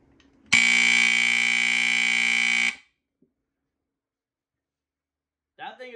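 A FireX FXC-1 linecord smoke alarm sounds a loud, steady, piercing buzzer tone for about two seconds and then stops abruptly, followed by silence and a brief voice at the end.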